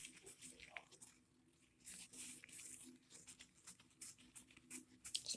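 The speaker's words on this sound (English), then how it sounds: "the metal polish, and I'm going to get polishing." Magnesium metal being rubbed with tissue paper and metal polish, a close, quiet papery scrubbing and swishing in irregular strokes.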